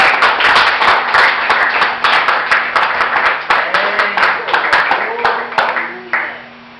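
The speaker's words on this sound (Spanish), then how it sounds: "Bríndele un aplauso al Señor" Congregation clapping for the Lord during a Spanish-language Christian sermon in church: sharp, rhythmic handclaps in a brisk beat, loud and close, with voices and a sustained tone underneath, fading out after about six seconds.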